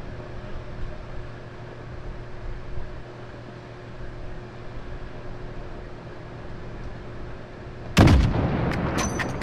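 Sniper rifle gunshot in the game Call of Duty: Modern Warfare, a single sharp loud crack near the end after a long stretch of low steady ambient hum, followed by a brief echoing tail.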